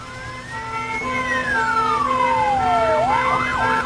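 Emergency 4 video game siren from a São Paulo mod, one long rising-and-falling wail that slides up, drops steadily, then breaks into quick warbling yelps, loud and steady over a constant engine-like hum.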